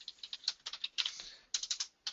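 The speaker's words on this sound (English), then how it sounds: "this whole typing thing seems to elude me a little bit" Rapid typing on a computer keyboard in bursts of quick, close clicks with short pauses between runs of keystrokes, moderately faint with no talking.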